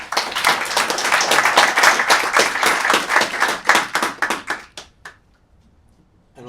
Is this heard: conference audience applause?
yes